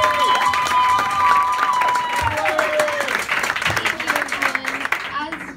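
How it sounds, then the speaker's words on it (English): Audience clapping and cheering at a live band show, a steady dense wash of applause with voices and a whistle over it, fading toward the end. "Start clapping."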